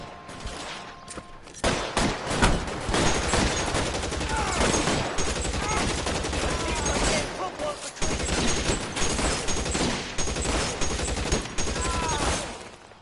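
A sustained shootout in LA Noire, with dense, loud fusillades of overlapping gunshots running almost continuously after a brief quiet start, and voices shouting over the firing.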